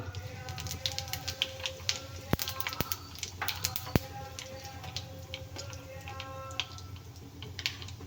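Mustard seeds spluttering in hot oil while tempering for a raw banana sambar, giving scattered sharp crackles and pops over a steady low sizzle, close by and moderately loud, with a couple of louder snaps.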